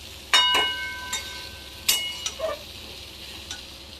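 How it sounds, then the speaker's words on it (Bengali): Spices frying in a pan for a Bengali fish curry: a few sharp metallic clinks and scrapes of a spatula stirring, spaced over a quiet background with a faint sizzle. "দেখো মশলাটা ভাজা ভাজা হয়ে গেছে"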